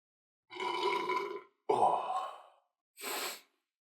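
Three separate loud, close burps from a man on a casual podcast recording, each lasting about a second, the second one sharp and the last shorter, with brief silences between and no talk.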